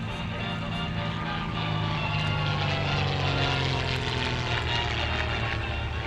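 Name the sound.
vintage propeller airplane flying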